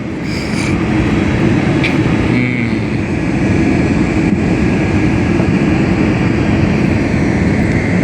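An airplane passes low and close over a city, giving a loud, steady, roaring drone that fills the whole stretch without a break.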